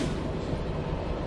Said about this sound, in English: The camera switches to a slow dolly as the train barrels through the darkness.